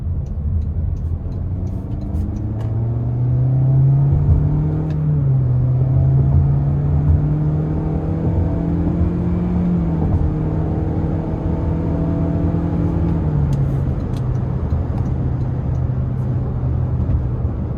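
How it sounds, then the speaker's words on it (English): A 2025 Toyota Corolla Cross XLE FWD with a naturally aspirated engine accelerates hard, its engine note climbing steadily through the gears with a shift or two, heard from inside over road rumble. "I like the sound again, just having that naturally aspirated engine."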